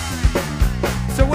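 A Fender bass guitar plays a bass line in a band setting, low notes plucked in a steady rhythm with strong low thumps roughly every 0.6 seconds, loud and close alongside other sustained instruments.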